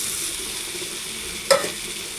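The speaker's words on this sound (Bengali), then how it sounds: "একটু নাড়াচাড়া করে নেব" Fried potato and eggplant stirred into spices frying in a pan, a continuous soft sizzle with a single scraping clatter of the spoon midway.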